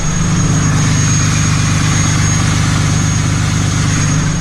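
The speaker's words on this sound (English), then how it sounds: "The high idle kicked on and it's so loud right now." A Cummins diesel truck engine runs on high idle with the exhaust brake on, a loud, steady, close drone with a deep pulsing rumble and a constant high whine over it.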